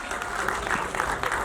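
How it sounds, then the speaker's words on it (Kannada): Loud, dense crowd applause fills a brief moment at a Graamaayana film trailer launch event, with no gaps and a steady level throughout. "ಮತ್ತೊಮ್ಮೆ ಜೋರಾದ ಚಪ್ಪಾಳೆ"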